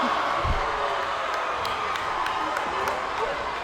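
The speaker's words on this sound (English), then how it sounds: "crowd is relentless." Loud, relentless crowd roar fills a high school basketball gym, a dense constant wash of cheering with a few sharp claps and shoe squeaks, and a voice is briefly heard beneath it.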